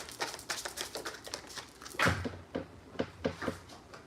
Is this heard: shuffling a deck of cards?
yes